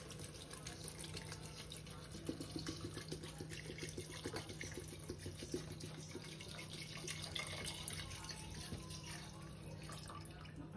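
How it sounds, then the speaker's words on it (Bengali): Water from a bottle pours into a pot of homemade chicken soup, making a steady, continuous splashing stream at moderate volume with no talking. "1 বোতল মতো জল নেওয়া হয়েছে, এবার এটা এর মধ্যে অ্যাড করে দেবো আমরা।"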